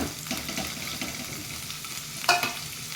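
Finely chopped onion and ginger sizzle in hot ghee in a pan, a steady soft crackle with stirring, and a brief scrape of the spoon near the end.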